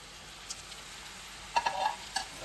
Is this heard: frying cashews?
yes